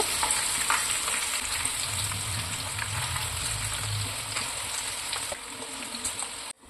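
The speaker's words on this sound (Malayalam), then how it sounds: "നമുക്ക് ചിക്കൻ പീസസ് ഓരോന്നായിട്ട് ഇട്ട് കൊടുക്കാം അപ്പോൾ ഒത്തിരി അങ്ങ് എല്ലാം തിങ്ങി ഇടേണ്ട ആവശ്യമില്ല കേട്ടോ കുറച്ച് സ്പേസ് വേണം അപ്പോഴാണ് നമുക്ക് നല്ല രീതിയിൽ ഫ്രൈ ചെയ്തെടുക്കാൻ പറ്റുന്നത്" Chicken pieces frying in hot oil, a dense continuous crackling sizzle at close range that holds steady and then drops off abruptly at the end, no talking.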